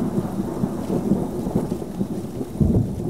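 Thunder rolling through a heavy rainstorm in an action film, deep low rumbles over a constant hiss of rain, swelling into a louder crack near the end, with no voices.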